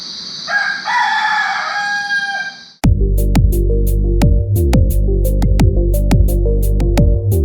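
A rooster crows loudly nearby in Cambodia, then a dense, continuous stretch of harsh, rhythmic noise with sharp clicks takes over without a break.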